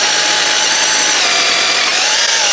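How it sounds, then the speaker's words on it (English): An SDS drill with a 12mm bit bores through the mortar of a brick wall, a loud, steady, continuous grinding hammer-drill roar held close throughout with no talk. "you can follow it through with something like a 12mm SDS bit just to make that hole a little bit bigger."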